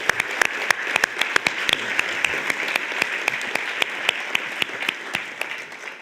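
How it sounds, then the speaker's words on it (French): Audience applause at the 2021 Summa awards ceremony, with dense, steady clapping and sharp individual claps standing out throughout. "Alors, je vous demanderai un petit applaudissement à l'équipe."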